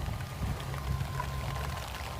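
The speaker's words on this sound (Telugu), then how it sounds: "ఇప్పుడు ఫ్రెండ్స్ మళ్ళీ వర్షం స్టార్ట్ అయింది" Steady rain falls beside a swollen rural stream during a fishing outing, a continuous close wash of water and patter with a low rushing undertone and no voices.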